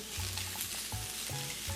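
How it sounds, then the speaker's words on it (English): Flank steak sizzles steadily on a grill, a close, continuous frying hiss with soft periodic low thumps, no voices. "we're just going to brush the flank steak and then lay it down on our grill"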